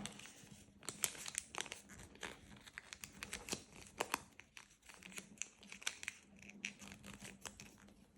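Paper being folded for an origami box with a handle, close crisp crinkles and sharp creasing snaps in an irregular rhythm, quiet and alone with no talk.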